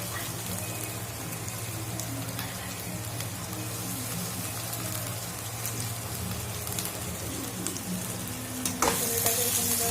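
Hand-ground ginger, garlic and green chili paste fries in a pan with a dense, even sizzle like steady rain and occasional stirring scrapes. A brief louder clatter comes near the end.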